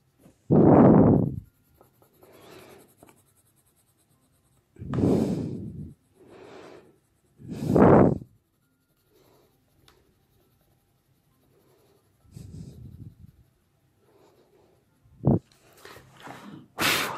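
Prismacolor coloured pencil rubbing across paper while filling in a galaxy-effect colouring page, heard as several loud scratchy strokes in separate bursts with quiet pauses between them.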